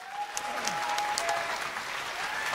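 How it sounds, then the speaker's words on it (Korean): A studio audience at the 2016 AfreecaTV BJ awards ceremony applauds six nominees: steady, full clapping from a crowd for the whole stretch, with a faint tone running underneath. "이 여섯 분한테 박수 한번 부탁드리겠습니다"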